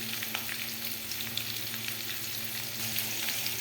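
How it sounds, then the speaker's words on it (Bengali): Potato pieces frying in hot oil until reddish, a continuous, even, close sizzle with light crackling throughout and no speech. "আলুটা এইভাবে আমি লাল লাল করে ভেজে তুলে নেব।"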